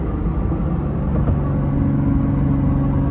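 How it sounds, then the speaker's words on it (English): A Lamborghini Diablo cruises in third gear, its engine a low steady chugging rumble heard from inside the car, loud and continuous with no voices. "that's just a quick little pull, and we're in third gear, chugging along"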